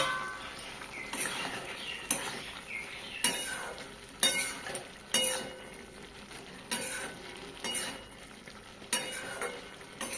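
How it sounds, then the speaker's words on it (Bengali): Long bean and potato curry with tomatoes cooking on a low flame, a faint simmering sizzle under repeated scraping stirs and clinks of a spoon against the pot, spaced every second or two. "আমি ঢাকা দিয়ে দিয়ে রান্না করছি এবং মাঝে মাঝে নেড়ে দিচ্ছি"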